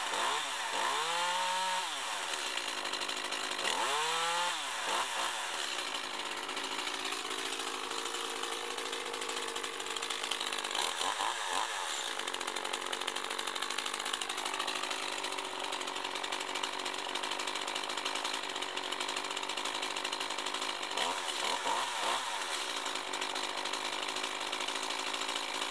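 A Shindaiwa 280TCS top-handle carving chainsaw runs continuously at a high, buzzing pitch, with a few brief throttle blips early on and once later, loud and close throughout.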